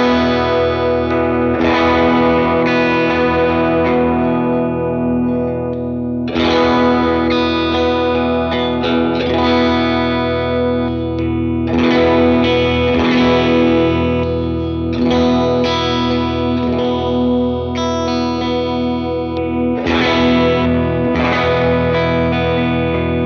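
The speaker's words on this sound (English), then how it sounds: "I'll play a chord, do the coil split, and you'll hear it back to back" An electric guitar chord from a PRS SE Starla strummed repeatedly, alternating between a fuller, thicker full-humbucker tone and a thinner, brighter coil-split tone, played loud and clean with no talking.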